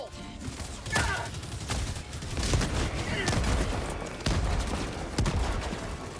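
Rapid gunfire bursts and a heavy grenade blast in the co-op shooter Helldivers 2, loud and dense throughout with a raised voice shouting over the combat.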